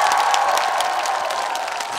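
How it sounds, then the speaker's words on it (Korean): Festival crowd applauding and cheering in a dense, steady wash of clapping at an outdoor flower festival in Gimhae, close and loud, sustained for the whole span without speech. "박수 한번 주시겠어요?"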